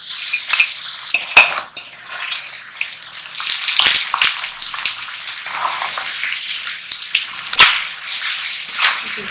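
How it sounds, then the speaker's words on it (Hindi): French fries being refried in hot oil for extra crispness, a steady bright sizzling and bubbling with scattered clinks and scrapes of a utensil against the pan, fairly close and continuous. "इन फ्राइज को दोबारा से गर्म ऑयल में फ्राई करना है ताकि और मजीद क्रिस्पी हो जाए।"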